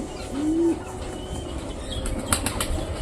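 A brief flurry of wing flaps as a pigeon takes off, followed by a quieter stretch with faint rustling and a few soft knocks nearby.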